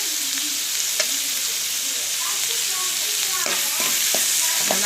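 Whole and crushed garlic sautés with salt in a hot pan, sizzling and crackling steadily up close, with occasional scraping stirs from a spatula.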